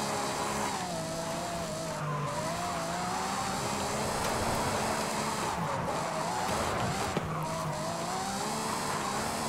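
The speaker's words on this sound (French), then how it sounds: "j'aurais pas dû accélérer à fond comme ça" A Ferrari at full throttle with tires squealing, its engine note climbing and wavering in repeated surges over a continuous loud roar, with brief skidding bursts along the way.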